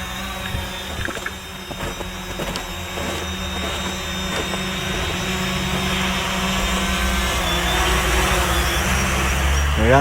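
A FIMI X8 SE 2022 drone hovers and lands in cold weather, its motors giving a continuous loud whirring drone with a steady high whine and rising intensity near the end.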